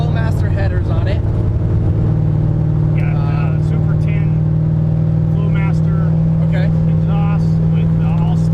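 A 1971 Camaro with a 383 stroker engine, Flowmaster headers and a 3-inch stainless exhaust dumped at the axle, rumbling at a steady, loud idle throughout while people talk over it.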